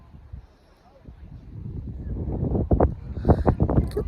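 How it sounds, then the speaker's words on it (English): Strong wind at an outdoor pumpkin patch buffets the microphone, starting faint and swelling into loud, gusty low rumbles and bursts over the second half. "The only downside is it's really windy."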